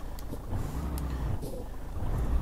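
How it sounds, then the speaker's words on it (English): A modded Mercedes MP1 1632 truck in Euro Truck Simulator 2 drones with a continuous low engine rumble that swells slightly toward the end. "as you can tell, it has the basic Mercedes sound when it comes to the engine"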